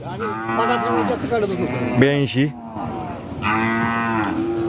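Khillar cattle moo loudly and close at a cattle market, two long drawn-out calls with a short break between, while a voice briefly speaks in the middle.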